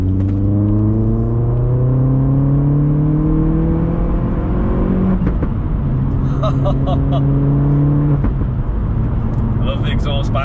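Vauxhall Astra H VXR with a stock engine pulling hard through the gears, its exhaust note rising and dropping with each shift, then popping and crackling on the overrun, loud and close from inside the cabin.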